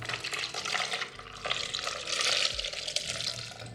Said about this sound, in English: Go ahead and pour that in.